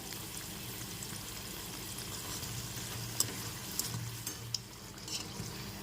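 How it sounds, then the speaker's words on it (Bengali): Chandrakala sweets frying in oil on a medium flame, a soft, steady bubbling sizzle with a few faint pops and clicks, low and close with no talking. "মিডিয়াম ফ্লেমে রেখে দু পিঠ খুব ভালো করে ভেজে নিয়েছি"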